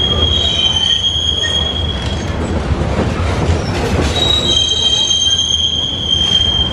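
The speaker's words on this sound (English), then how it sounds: "squeaky train action" Train wheels squeal in loud, sustained high-pitched tones over a rumbling railcar roll beside an old railroad depot, the squeal fading midway and returning strongly toward the end.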